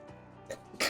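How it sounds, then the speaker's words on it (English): A single quick sneeze at close range, preceded by a couple of small breathy catches and ending in a sharp, bright burst. "Excuse me, sneeze."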